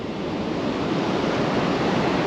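Surf rolls in from Bass Strait onto a beach at the mouth of the Powlett River in Victoria, forming a steady, loud, close wash of breaking waves mixed with wind, without pause or talk.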